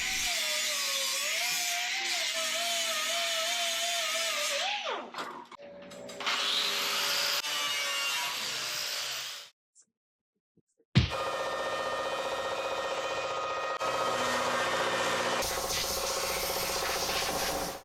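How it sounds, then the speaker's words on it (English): A die grinder fitted with a 36 grit Roloc disc grinds down welds on a mini truck wiper cowl, a loud, steady high-pitched whine that shifts pitch, cuts out briefly, then resumes at full speed. "Now we're gonna grind it smooth. 36 grit Rolock disc on the die grinder."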